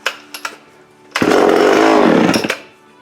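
A Homelite XL12 chainsaw with a freshly primed carburetor gives a few sharp pops, then catches and roars loudly for about a second before dying away. No one speaks.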